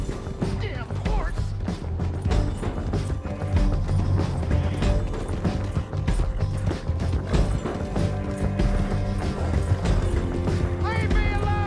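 A horse in Red Dead Redemption 2 clip-clops along with rhythmic hoofbeats and a brief whinny, mixed into busy mechanical game noise and voices talking.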